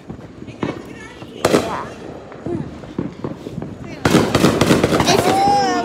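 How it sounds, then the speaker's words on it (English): Fireworks burst in several sharp cracks and crackling volleys, the densest stretch near the end, while people talk and exclaim nearby. "They're good fun fireworks."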